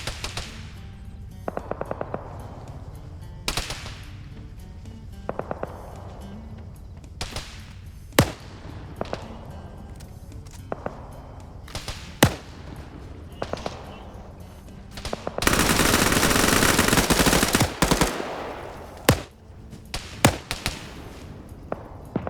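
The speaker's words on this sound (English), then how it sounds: "You hear the autocannon, it's tracked people here, and now it's starting to engage people on the ridge" An autocannon firing in an Arma multiplayer match, loud sharp reports spaced a few seconds apart, with one long dense burst of sustained fire midway through.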